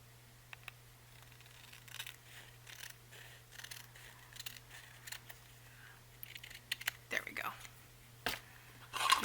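A series of close, light scissor snips through paper, irregular and quiet, growing busier toward the end over a faint background hum.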